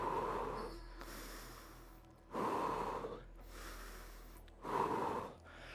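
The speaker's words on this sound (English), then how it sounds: "While you're resting, make sure you try and get as many deep breaths as possible." During a rest between dumbbell exercises, someone takes slow, deep breaths close by: three long, airy inhale-exhale cycles, fairly quiet, with no talking.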